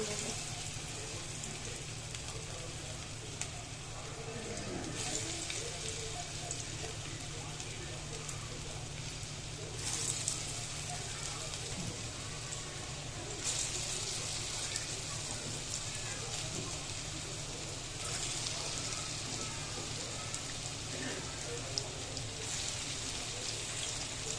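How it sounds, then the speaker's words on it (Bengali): Lentil fritters (dal bora) frying in hot oil in a pan over medium heat give a steady soft sizzle and crackle, fairly faint, with occasional louder pops. "তেলটা গরম হওয়ার পরে বড়াটা দিয়ে দিলাম।"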